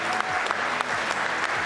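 An audience claps steadily in a short burst, a thick continuous patter of many hands with a few louder claps and faint low voices underneath.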